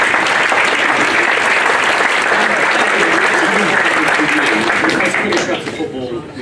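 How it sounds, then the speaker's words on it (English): Audience at a football club dinner breaking into a round of applause, dense steady clapping filling the room before tapering off at the end. "That deserves a round of applause"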